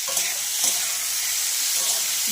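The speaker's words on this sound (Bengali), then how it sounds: "মাপ মতন লবণ দেবো একটুকুনি লবণ দেবো আর একটু কালার আসার জন্য হলুদ দেবো এবার ভালো করে ভাজবো" Spiced chalta (elephant apple) for pickle sizzles in hot oil with salt and turmeric, a steady close hiss with faint scraping stir strokes.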